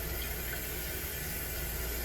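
Water running steadily from a sink tap, a continuous hiss of flow with no pauses or voices.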